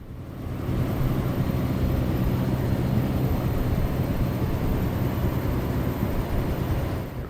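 A Westland Wasp scout helicopter in Microsoft Flight Simulator 2024 banks through a hard turn, its steady loud rotor and turbine roar droning on continuously, fading in at the start and easing off at the end.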